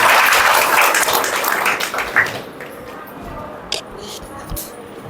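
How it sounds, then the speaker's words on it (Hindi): Children clap together to welcome guests at a spiritual class, a brisk burst of applause that fades out after a couple of seconds, leaving a few stray claps and light rustling. "पहले तो एक बार ताली बजा दो इनके स्वागत है"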